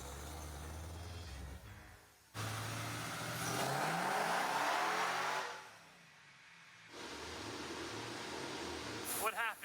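A Nissan 350Z fitted with a Hellcat engine revs on a dyno, the engine note rising and swelling for several seconds, dropping away, then returning with steady running, while people talk over it.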